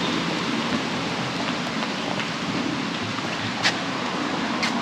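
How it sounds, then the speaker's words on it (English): Steady rain falls outdoors in hot, humid Belém do Pará, a dense continuous hiss of drops with a few brighter splashes, fairly loud and with no voices. "We were just talking about the rain, and it started raining"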